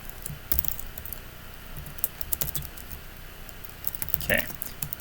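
Computer keyboard typing during a C# programming lesson, a steady patter of keystrokes with short bursts, fairly close and moderately loud.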